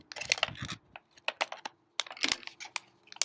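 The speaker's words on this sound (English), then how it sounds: "you take some scissors. I'm just gonna cut it" Scissors make sharp crunchy snips cutting through a plastic bottle in short irregular bursts with brief pauses between them, close and fairly loud.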